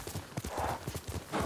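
Horse hooves clip-clop at a steady trot in the video game Ghost of Tsushima, a close, rhythmic run of muffled thuds with a faint whinny-like tone near the end.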